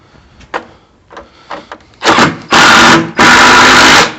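A power screwdriver tightening the three recoil starter screws on a Stihl BR350 backpack blower: a few small clicks, then loud close whirring bursts in quick succession.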